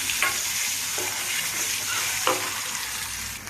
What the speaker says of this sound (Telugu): గుడ్లు అయితే బాగా వేగినాయి కదండి